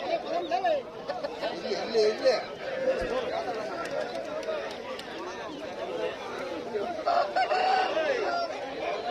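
Roosters and hens at a busy country chicken market selling local breeds, crowing and clucking close by amid steady crowd chatter and people talking throughout.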